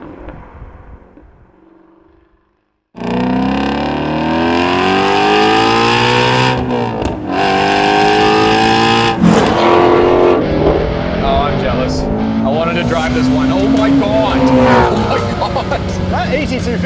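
A sports car engine revs hard toward about 8250 rpm, loud and close, its pitch sweeping upward in long sustained pulls after a brief quiet opening.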